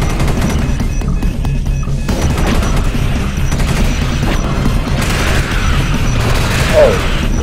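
Sentry gunfire in the sci-fi shooter game Space Beast Terror Fright, a loud continuous rattle of rapid shots over a low rumble, steady throughout with a slight burst near the end.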